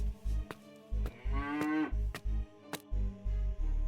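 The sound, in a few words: cow mooing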